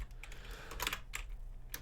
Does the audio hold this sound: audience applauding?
no